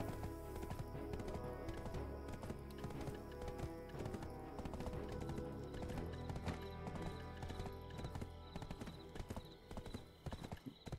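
Horse hooves galloping in Black Desert Online: rapid, rhythmic clip-clop beats drive on without pause, loud and close, over a dense layer of game sound with occasional whinny-like tones.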